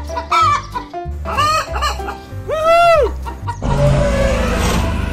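Several loud, close chicken clucks in quick bursts, including one drawn-out squawk, with a rustling hiss near the end and a low musical backing throughout.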